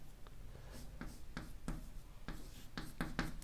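Pen writing out a chemical reaction by hand on paper, a series of quick close scratchy strokes in an irregular rhythm, faint and alone with no talk.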